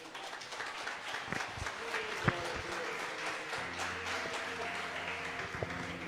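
A church congregation at an Assembly of God youth service applauding together, sustained clapping with crowd noise and a few sharper claps standing out, and voices and a held tone under it.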